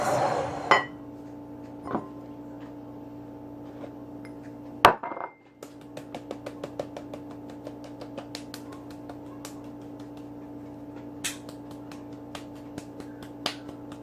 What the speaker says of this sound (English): I'm going to sift it into the bowl with the eggs